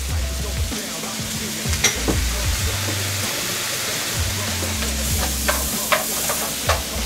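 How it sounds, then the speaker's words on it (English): Mushrooms tipped into a hot pan and stirred, with a steady sizzle of frying under scraping, clinking stirring strokes and occasional low hum, close and moderately loud. "Now, I'm going to add my mushrooms."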